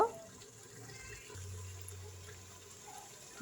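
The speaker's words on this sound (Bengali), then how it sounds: "অল্প পরিমাণ পানি এটা হালকা করে ধুয়ে দিয়ে দিলাম" Raw beef for a korma being rinsed with a small splash of water, heard as a soft, faint trickle and low running-water hiss close by, with no speech.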